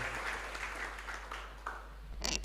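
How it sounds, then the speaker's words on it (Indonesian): A school farewell gathering gives a short round of faint applause, distant-sounding scattered clapping over a low hum. "Tepuk tangan dulu ya"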